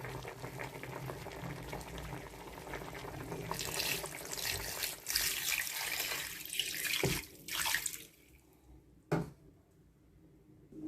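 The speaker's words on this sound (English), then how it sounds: "So I'm still going to add a little water." Water poured into a pot of okro soup with mackerel cooking on a gas stove, a splashing, bubbling pour that fades out, then a couple of brief clatters in a quiet kitchen.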